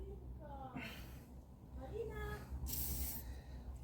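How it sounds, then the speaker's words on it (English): A short burst of WD-40 sprayed from an aerosol can onto a rag, a bright hiss lasting about a second, set against low workshop rumble with some voiced sounds before it. "I'm just going to get a squirt of WD-40 on this rag."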